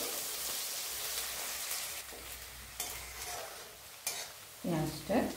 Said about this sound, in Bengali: তো আমি পেঁয়াজটা একটু ভেজে নিই।